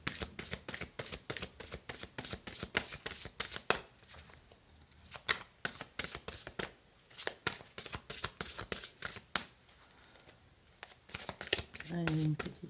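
Tarot cards are shuffled in rapid, crisp riffling bursts close up, continuing almost nonstop with brief pauses, while someone speaks softly over them.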